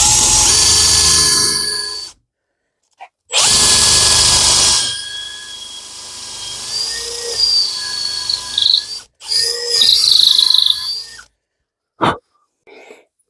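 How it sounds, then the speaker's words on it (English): A power drill boring out a hole in a wooden dowel, with loud whining runs of the motor that stop and start, separated by short silences. "you want to widen that hole with a drill bit which is the same diameter or slightly smaller than your smaller dowel."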